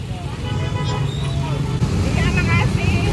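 Dense jammed road traffic rumbles steadily with idling engines and a low hum, while people talk nearby and faint horn-like tones rise in the background.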